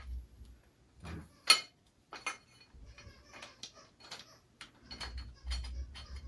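A bolt is threaded in by hand with a Torx 40 driver while installing a case saver on a Husqvarna 701 Enduro LR motorcycle, giving faint metallic clicks and scrapes in short bursts against near silence.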